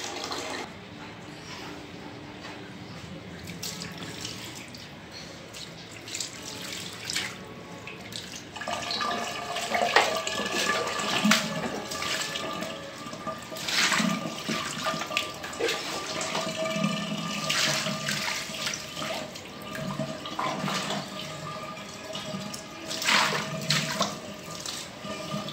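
Tap water runs steadily while a cat is bathed, a continuous splashing flow that grows louder and busier partway through, with water hitting fur and a basin, and no voices.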